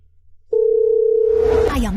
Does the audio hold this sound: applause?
no